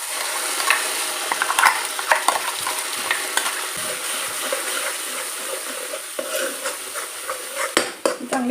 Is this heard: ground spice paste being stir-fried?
yes